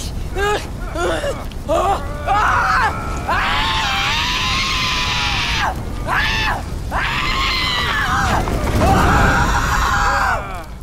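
The Batari boss in the video game Far Cry Primal lets out long, loud, wavering screams and groans before dying, several drawn-out cries in a row over rumbling game sound.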